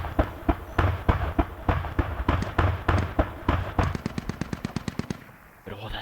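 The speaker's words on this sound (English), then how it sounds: "But all that fire, I can hear all the firefight happening over on storage." Video game firefight with rapid bursts of automatic gunfire, loud and close, with rattling volleys that speed up into a tight fast burst before stopping.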